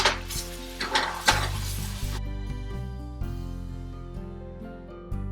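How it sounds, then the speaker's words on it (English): A spoon clinks and scrapes against a pot of milk and sugar in a few close, rhythmic strokes, then the stirring fades under a steady tonal hum. "stir that milk with sugar"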